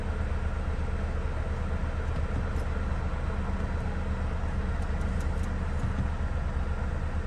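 Mercedes-Benz CLS220d (C218), a white diesel sedan, driving along: a steady low engine and road rumble fills the cabin throughout, with faint intermittent clicks above it and no talk.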